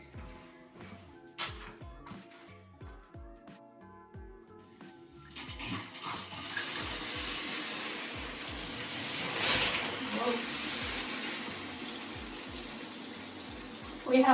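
A newly plumbed shower tap in a home renovation opens after some faint clunks and taps, then water gushes in a steady, loud rushing stream that grows stronger and continues to the end.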